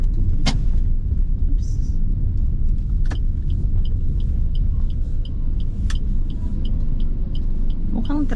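Car interior during a drive through heavy Metro Manila city traffic, a steady low road rumble with occasional clicks and brief sharper sounds, no talk.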